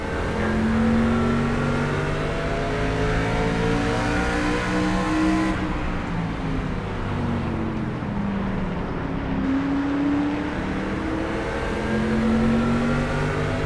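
Stock car engine roaring at speed in NASCAR 25, a steady loud drone with shifting pitch as the car accelerates and holds revs, other cars passing close, no talking.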